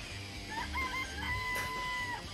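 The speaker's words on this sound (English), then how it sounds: "I remember there were some chickens in the chicken coop." A rooster crows in a chicken coop in a video game, a single drawn-out cock-a-doodle-doo over faint background ambience with no talking.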